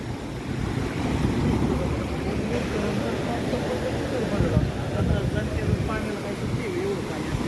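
Swollen river water released from Khadakwasla dam rushes loudly toward Ujani dam after upstream rain, a broad, continuous churning roar with wind buffeting the microphone and someone talking over it throughout.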